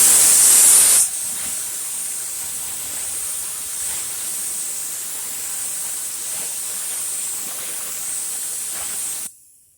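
Spray gun laying a second coat of paint on a Chevelle in a garage, a steady close airy hiss running unbroken for about eight seconds after a brief louder burst at the start.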